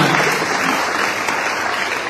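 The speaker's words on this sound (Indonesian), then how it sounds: "Tepuk tangan dulu." A church congregation applauding, a continuous wash of many hands clapping, loud and even for a couple of seconds without talk.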